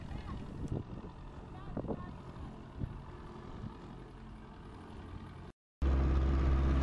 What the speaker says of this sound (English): that metal boat came chugging up the river